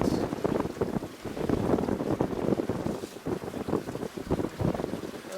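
A wind gust buffets the microphone aboard a Catalina 42 sailboat under sail in 17 to 18 knots of breeze. Low, rumbling gusts surge and fade over water noise, close and loud throughout.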